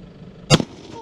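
One sharp, loud gunshot at night during pig spotlighting, a sudden close blast with a quick echo, otherwise quiet.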